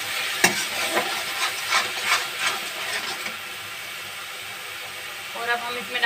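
Fried onion-tomato masala sizzles steadily in a pan while a spoon scrapes and stirs it, giving a steady hiss with repeated scraping knocks. A voice speaks over it.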